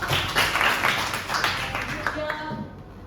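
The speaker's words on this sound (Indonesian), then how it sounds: "Hansa boleh kasih tepuk tangan dulu." A classroom of students applauds a classmate, with a burst of mixed clapping and chatter that gradually thins out toward the end.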